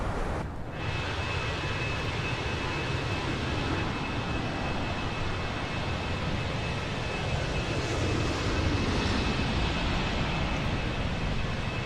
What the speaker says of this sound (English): There's an aircraft just above us.